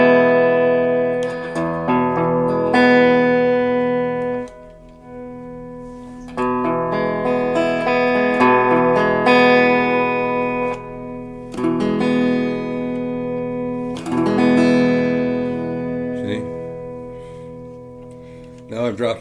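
An electric travel guitar rings out through a Fender Sidekick amplifier's reverb, sustained chords and notes decaying into a wet tail, played alone and loud.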